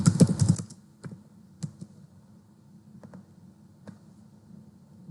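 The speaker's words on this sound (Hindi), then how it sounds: "Node.js के सर्वर को स्टार्ट करने के लिए आपको टाइप करना था nodemon" A quick burst of keystrokes on a computer keyboard typing out a nodemon command to start a Node.js server, followed by a few isolated key taps spread over the next several seconds, close-miked with no voices.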